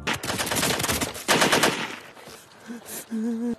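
Soldiers in a film firing guns blindly in panic: dense rapid bursts of automatic gunfire, loud and close, fading into scattered shots and a brief tonal whine at the end.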